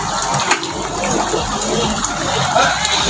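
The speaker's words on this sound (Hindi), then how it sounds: "यहां तो बिल्ली ने एक स्विमर जैसी पानी में छलांग लगाई और गायब ही हो गई" Water gushing and splashing as a cat leaps into floodwater, a steady loud churning wash with a few brief splash peaks; faint voices may be mixed in.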